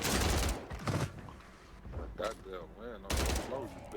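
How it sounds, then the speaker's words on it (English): Bursts of gunfire from a Call of Duty: Warzone match, several quick volleys heard under someone talking over the game audio. "as soon as I start sprinting, boom, I'm able to shoot"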